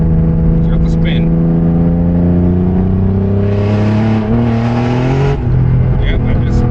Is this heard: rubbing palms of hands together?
no